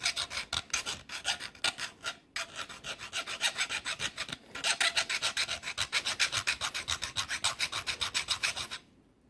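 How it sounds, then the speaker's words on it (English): A hand file rasps across the cut end of a brass trumpet tuning slide in quick, regular back-and-forth strokes, close and crisp, with two brief pauses before the strokes stop at the end. "I do go ahead and dress it up a little bit with the file when I'm done. Square it up basically."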